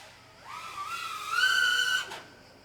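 A thin, high FPV drone propeller whistle, from an Axisflying Manta 5 PRO, rises and holds for about a second and a half, growing louder before cutting off abruptly.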